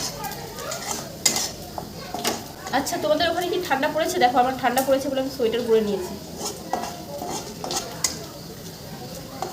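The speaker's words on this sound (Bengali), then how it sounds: "পেঁয়াজটাকে এখন ভাজছি" Onions sizzle in a pan while a utensil stirs and clinks against the metal, with a person talking over the cooking.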